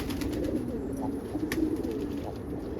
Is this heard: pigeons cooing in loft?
yes